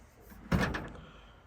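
A car door swings shut and thumps against oversized rubber welting, giving one dull muffled bang with a short rattle after it. The sound is close and stands alone against a quiet background.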